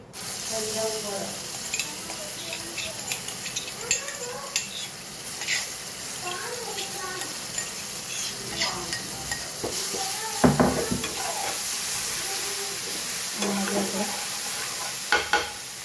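Chillies sizzle in a pan of samosa filling while a spoon stirs and scrapes, a steady frying hiss with frequent clinks and knocks against the metal throughout.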